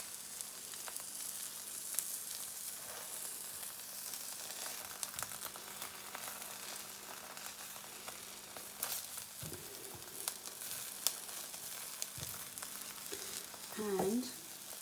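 A wild garlic and nettle omelette with melting cheese cooks in a pan, giving a soft, continuous sizzle with occasional light clicks and scrapes of a utensil, fairly quiet throughout.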